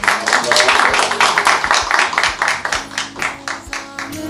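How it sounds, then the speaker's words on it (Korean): Applause at a film screening event, a dense wash of clapping at first that thins into separate, uneven claps toward the end. "또 큰 박수로 자리 모시도록 하겠습니다"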